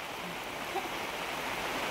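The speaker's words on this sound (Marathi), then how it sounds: "रस्त्यामध्ये पाऊस भेटलाय." Rain falls on a road in a rural village, a soft, even hiss that stays faint and steady throughout.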